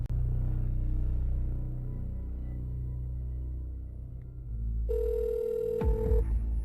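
Telephone placing a call to a hospital: after a low rumbling stretch, a steady electronic ringback tone sounds near the end, followed by a short clatter, with no talking.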